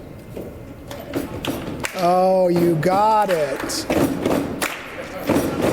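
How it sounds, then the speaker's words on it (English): A room full of people bangs on tables and claps, a scattered run of thuds and slaps with a voice calling out briefly in the middle. "Bang on your table and clap, and then the rest of you follow suit"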